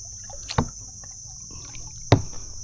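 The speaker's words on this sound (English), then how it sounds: "just a little bit of paddling and then it's nice and shady" A kayak paddled one-handed on calm water in a shady stretch, with two distinct paddle dips and splashes about a second and a half apart over a faint steady background hum.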